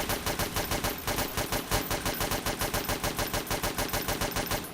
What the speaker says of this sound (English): it's good because it's a very fast, heavy gun